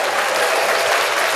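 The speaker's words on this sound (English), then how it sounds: "she did deserve a round of applause" Dense, even applause from a show audience for a first-time guest, loud and continuous across a brief stretch with no talk over it.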